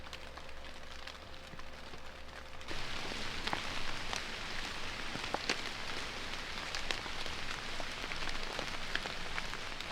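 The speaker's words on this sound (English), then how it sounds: "Since it's a rainy day" Steady rain patters on a forest campsite in a New Hampshire woods in fall, a dense wash of drops with scattered louder taps on nearby surfaces. A faint low hum fades out after the first few seconds.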